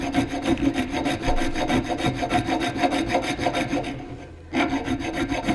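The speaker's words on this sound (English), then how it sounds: "So let's just file that end out." A metal file rasps back and forth in quick, even strokes, filing out a bolt hole during an engine install, close up, with a brief pause before the scraping resumes.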